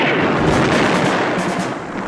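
A TV action episode fills with dense, loud gunfire and artillery, a continuous battlefield roar of overlapping shots and booms with no pauses.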